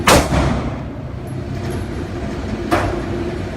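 Two sharp gunshots from a .22 caliber handgun crack out, one right at the start and another near the end, each a brief loud report fading into a low ambient rumble.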